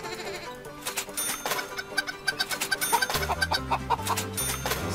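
Farm animals in the video game Meine kleine Farm 4: repeated sheep bleats and chicken clucks over cheerful game music, the calls coming in quick succession and growing busier toward the end, no talking.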